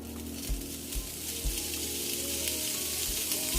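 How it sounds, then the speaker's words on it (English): Conecuh sausage sautés with red onion in a pan, a soft, continuous sizzle with a few dull knocks from stirring. "Now we're going to saute the Conecuh sausage"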